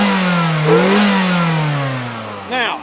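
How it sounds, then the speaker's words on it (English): 2002 Kia Spectra sedan engine revved from idle, pitch rising and then falling back in a single sweep, followed by a second short blip, heard close and fairly clear. "let me rev this thing up and you can hear it"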